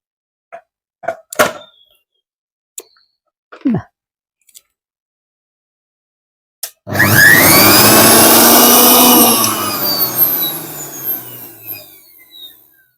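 A few clicks and knocks come from setting a jar onto a mixer grinder, then the motor starts with a loud rising whine, runs steadily for a couple of seconds and winds down, close up.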